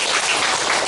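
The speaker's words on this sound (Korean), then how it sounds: "박수 한번 부탁드립니다" Congregation applause during a church service, a dense, even wash of clapping that fills the whole brief moment.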